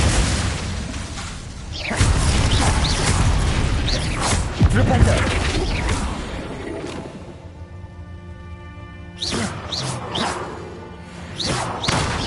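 Confringo blasting spell in the Hogwarts Legacy video game, with loud booming blasts and crashes in several bursts, a quieter ringing lull in the middle, then more sharp impacts, with a voice calling out over the action.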